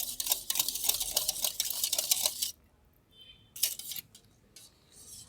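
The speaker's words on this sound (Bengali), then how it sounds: "এটাকে খুব ভালো করে ফেটাতে হবে।" Vegan zebra cake batter whisked in a bowl until creamy, a rapid, steady clatter of whisk against the bowl for a couple of seconds, then a pause and a few shorter bursts of beating.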